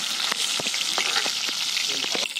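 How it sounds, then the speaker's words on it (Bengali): Prawns sizzle steadily in hot oil in a pan while they are cooked for a shapla flower and mustard-poppy seed dish, with bright crackling and a few sharp spatter pops over a constant hiss. "এবার আমি এতে চিংড়ি মাছগুলো দিয়ে দিচ্ছি। চিংড়ি মাছগুলো ভাজা হয়ে গেছে।"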